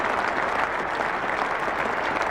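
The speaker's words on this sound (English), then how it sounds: "Warm applause all the way around," Warm, steady applause from the crowd at a cricket Test match for an England batsman, a dense even patter of clapping from start to finish.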